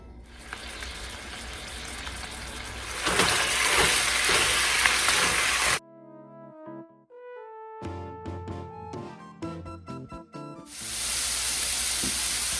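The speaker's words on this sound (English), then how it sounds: "I'm gonna drain any excess fat, but I'm not gonna brown it all the way through, just mostly" Ground beef browns in a pan for Thai basil beef with a loud, steady sizzle. The sizzle breaks off for a stretch of tonal music-like notes, then returns near the end.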